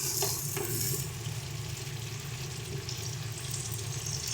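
Chopped tomato frying in a hot pan for pasta gives a steady, close sizzle that runs unbroken, with a few faint clinks near the start.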